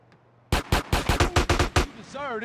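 An AK rifle fires in GTA San Andreas: about nine sharp, loud shots in an irregular rapid burst, followed by a brief warbling sound as the firing stops.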